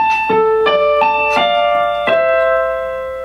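Piano plays a short passage from a song, five distinct struck notes or chords in a slow sequence, the last one ringing out, close and clear.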